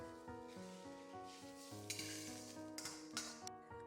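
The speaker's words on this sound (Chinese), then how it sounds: "继续给它炒香" Eggplant stir-fried with scallion, ginger, garlic and a splash of water sizzles steadily in a pan, with scrapes and clinks from the spatula over a constant tonal background.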